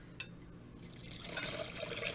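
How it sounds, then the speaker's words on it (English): After a small clink, boiling water pours steadily onto gelatin in a container, a close, bright splashing and gurgling stream that grows fuller as it continues. "I'm going to add 2 cups of boiling water to the gelatin."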